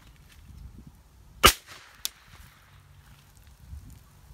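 A blank gun fires one sharp, loud crack outdoors, followed about half a second later by a smaller snapping impact, with quiet background between.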